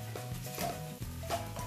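A spoon stirs mashed potato filling with salt, turmeric powder, oil and mustard seeds, giving a brief run of soft, close scraping and squelching strokes, repeated at a steady pace.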